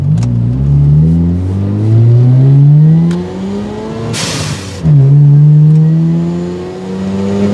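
A boosted Mazda RX7 FC accelerates hard, its engine climbing through several gears with rising revs, a sharp burst at a shift, and loud, close in-car sound without talk.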